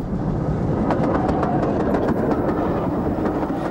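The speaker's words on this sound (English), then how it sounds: "Another mainline train has one of Thompson's Go Anywhere B1s at the head." Mainline steam train hauled by a Thompson B1 locomotive on the LNER, its wheels and wagons giving a steady, loud rumble with faint rhythmic clickety-clack beats throughout, close by and with no talk.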